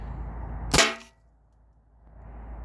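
A shot from a modded T4E HDB shotgun, a less-lethal launcher, striking an aluminum sheet: a single sharp crack with a short metallic ring, standing out loudly against a low background hum.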